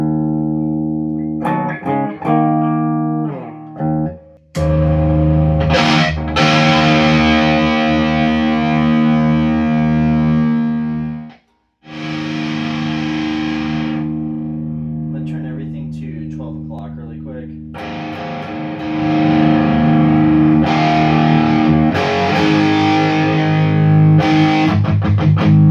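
Distorted electric guitar chords and riffs through a Tone City Model B overdrive pedal, loud and sustained, with a brief spoken remark near the start.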